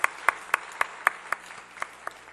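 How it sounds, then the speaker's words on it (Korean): Church congregation claps during a Sunday service, with about ten sharp, evenly spaced claps over a quiet room and faint background. "함께 다시 한번 큰 박수로 한번 축복해 주시길 바랍니다"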